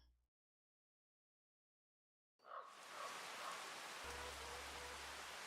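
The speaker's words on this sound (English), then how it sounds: "It's still raining?" Rain falls in the Farming Simulator 25 video game on a farm during winter: a steady, close hiss of rainfall starts suddenly after a couple of seconds of silence and continues alone, with a low hum joining near the end.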